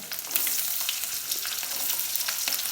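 Onions and garlic frying in hot oil for a Jaffna-style meat curry give off a steady, dense sizzle with crackling spits throughout, fairly close and without any voices.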